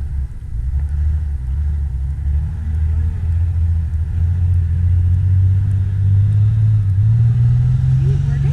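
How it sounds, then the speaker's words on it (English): A deep, steady engine rumble from a compound-turbo Cummins mud truck on tractor tires drones close by throughout, with low-pitched vehicle noise rising slightly toward the end as if accelerating. "You're in a truck on tractor tires."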